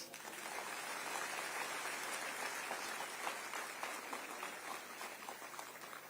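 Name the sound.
audience applause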